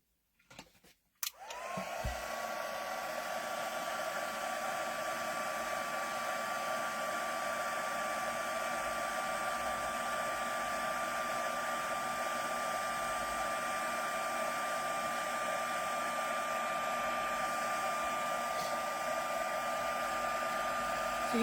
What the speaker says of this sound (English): then we'll go and heat set it